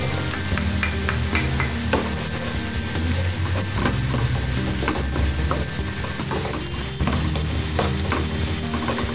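Garlic and onion sautéing in a pan for stuffed milkfish, a loud, continuous sizzle with frequent clattering stirs and scrapes throughout, close by.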